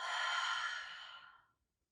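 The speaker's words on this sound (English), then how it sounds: "And open mouth, exhale." A single long open-mouth exhale during hot yoga breathing, a breathy airy rush heard up close that fades out after about a second and a half, with no talking.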